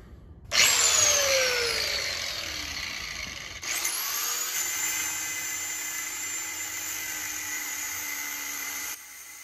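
A power saw cuts washers and spacers to size for a lawn kart, starting abruptly with a loud high whine that holds steady, briefly dips and restarts, then stops sharply.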